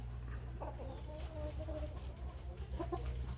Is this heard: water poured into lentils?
no